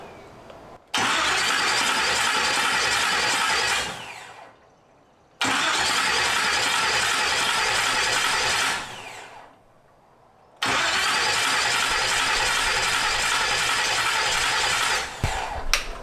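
Starter motor cranking a hot rod engine with the ignition disconnected, in three long, loud, steady bursts of even cranking separated by short pauses, each burst ending abruptly, with no voices.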